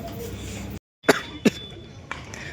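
Coughing after drinking a cold drink: two short, sharp coughs close to the microphone following a brief silence, with a faint third sound afterward.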